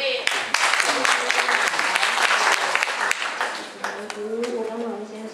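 An audience claps at an association meeting, brisk overlapping applause lasting several seconds and easing off near the end, with a voice faintly heard beneath it.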